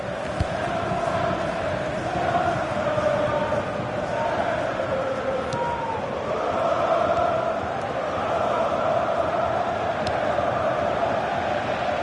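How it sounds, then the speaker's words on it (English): Crowd noise from a FIFA 16 football match in a Southampton career mode, a steady broad roar of jeering spectators filling the whole stretch without pause, with no voices in front. "he's getting some stick from the crowd, and you can understand why"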